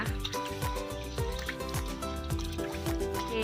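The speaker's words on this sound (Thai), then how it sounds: "ล้างข้าวสารให้สะอาดนะคะ" Uncooked rice washed in water for wrapping rice in coconut leaves: steady, continuous sloshing, trickling and dripping, close and moderately loud.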